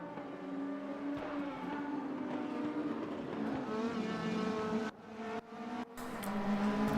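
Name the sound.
Mercedes race cars battling on track, from a racing video game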